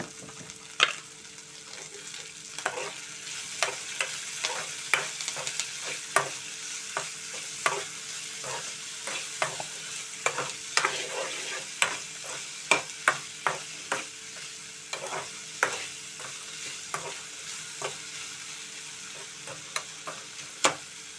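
Chopped onions with salt frying in a pan, a steady soft sizzle under regular sharp scraping strokes of a spoon stirring, close and evenly paced throughout, no voices.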